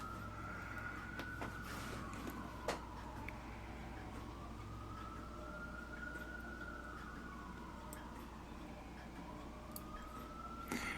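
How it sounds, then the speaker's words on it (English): A wailing siren rises and falls slowly in the distance, faint under a constant low hum with occasional soft clicks. "I'm hearing a siren going on out there."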